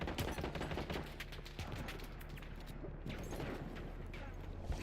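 Gunfire in the video game Battlefield 1, a dense continuous barrage of rapid shots and distant bursts, fairly quiet and steady throughout.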